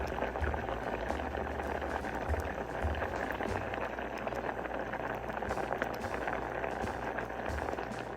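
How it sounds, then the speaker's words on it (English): Pot of vegetable and bean soup bubbling at a low boil on the stove, a soft continuous fizzing and popping with faint low thumps, quiet and close. "All right, it's come to a little boil. I'm gonna lower it, let it simmer."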